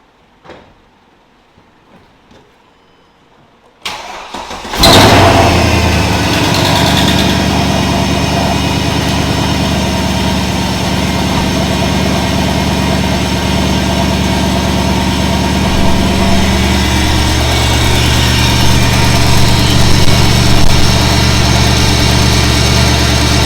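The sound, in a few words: Mercedes AMG 63 engine cold start and idling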